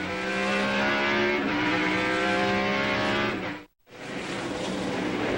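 NASCAR Winston Cup race cars at Watkins Glen racing through the S's, a loud snarling V8 roar that climbs and holds under acceleration, then briefly cuts out before the engine noise returns.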